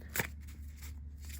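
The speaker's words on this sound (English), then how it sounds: "I'm going to go ahead and shuffle the deck" Tarot deck being shuffled by hand, a faint, close riffle of cards with a quick snap at the start over a low background hum, no voices.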